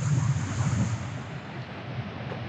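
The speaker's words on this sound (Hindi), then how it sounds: "वो पानी जो ग्लेशियर्स का आ रहा है बहुत तेज़ी से आगे दरिया में शामिल हो रहा है" Fast-flowing glacier meltwater stream near Pyala Lake rushing steadily, a close, broad wash of water with wind buffeting the microphone and no talk.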